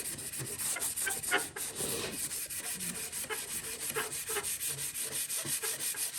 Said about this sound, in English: You don't need to sand it really aggressively or really madly